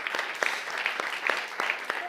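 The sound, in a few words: audience applause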